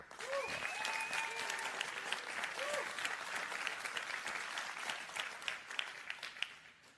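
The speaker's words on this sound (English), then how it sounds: "Round of applause for..." A conference audience at Solana Breakpoint breaks into sustained applause, dense clapping from a large crowd with a few whoops and cheers rising over it.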